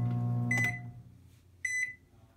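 An Emerson MW9338SB microwave oven starting up: a low steady hum that fades, with two bright electronic beeps, one early and one later, heard close and fairly quiet.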